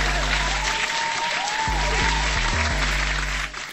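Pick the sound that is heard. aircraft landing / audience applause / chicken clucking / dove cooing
audience applause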